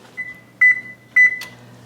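Conventional kitchen oven control panel beeping as it is set to preheat, two short electronic beeps and a brief click over a steady tone and low appliance hum.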